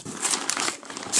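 Brief crinkling and crumpling of packing paper while a parcel of fireworks is being unboxed, close and fairly loud with no talk.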